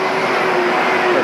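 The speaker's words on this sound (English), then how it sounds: "Got a truck going by." Truck driving past outdoors, a loud steady roar with a constant engine drone throughout, no gaps and no clear voices.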